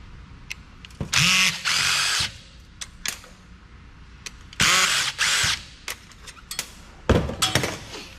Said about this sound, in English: in order to get the most value for this, I'm going to take off this bracket.